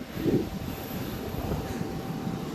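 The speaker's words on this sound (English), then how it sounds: "Yeah, taking off some thick fog." Fixed-wing airplane taking off in thick fog in Shanghai, heard from inside the cabin as a steady broad engine roar and rushing noise with a brief thump near the start.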